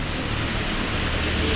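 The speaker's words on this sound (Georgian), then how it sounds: "წვიმს გადაუღებლა." Steady, continuous rain pours down without pause, a dense broadband hiss of drops hitting surfaces, close and even throughout with no voices.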